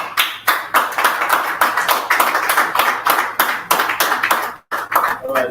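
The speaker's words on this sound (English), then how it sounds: "round of applause for him" An audience at a young CEOs' business summit claps for a speaker, a loud, dense, fairly even run of applause with a short break near the end.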